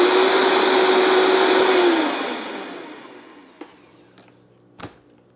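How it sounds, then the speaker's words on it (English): A blender grinds 45 grams of milk powder into a fine powder, its loud motor whine running steadily before winding down, followed by a couple of faint knocks. "Now let's grind this into a fine powder."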